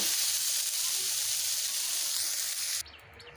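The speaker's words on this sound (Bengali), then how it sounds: "সামান্য হলুদ সামান্য লবণ দিয়ে ভেজে নেব সয়াবিনটা" Soybean chunks fry with a little turmeric and salt in a pan, giving a steady, close sizzling hiss that runs loud and even before cutting off abruptly near the end.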